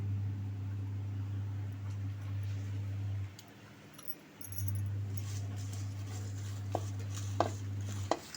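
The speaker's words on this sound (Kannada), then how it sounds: "ಇವಾಗ ಡ್ರೈ ರೋಸ್ಟ್ ಮಾಡೋಣ ನೋಡಿ" Whole spices for garam masala, including bay leaf and star anise, are dry roasted in a pan, with soft scraping and stirring and a few light clinks against the metal over a steady low hum from the stove.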